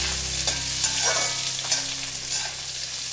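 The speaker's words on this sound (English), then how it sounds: "And this is 3 medium sized on onion which I have sliced. So now just cook this." Three medium sliced onions fry in a pan with a steady, close sizzle and occasional stirring scrapes, with no voices.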